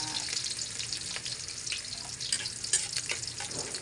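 Onions sizzle in a hot pan as the first step of cooking pancit, a steady crackling fry with small pops and stirring scrapes throughout, close and fairly loud with no talking.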